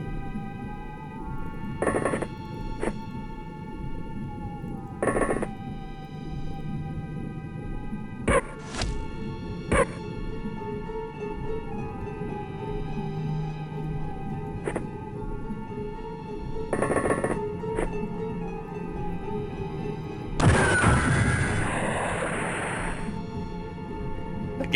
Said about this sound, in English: The gas cannon does do damage.